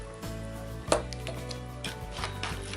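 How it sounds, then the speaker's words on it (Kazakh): Red velvet cake batter with kefir and apple vinegar is stirred in a bowl, the utensil scraping and knocking against the sides at a steady pace, with one sharper clack early on. "Бір келкі болғанша тағы да араластырамыз."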